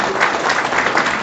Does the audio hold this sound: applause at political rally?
yes